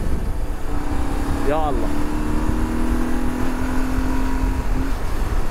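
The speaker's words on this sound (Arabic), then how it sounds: "هم نصور لكم شوي تسارع بالدراجه" A motorcycle accelerating, its engine note rising and sweeping upward through a quick rev before settling into a sustained whine, with steady wind and road noise underneath and a brief exclamation from a rider.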